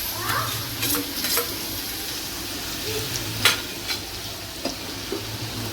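Onion, ginger and garlic sizzle steadily in a pan for an Agri-style curry, with soft scrapes and taps from stirring breaking through the frying hiss, close and moderately loud.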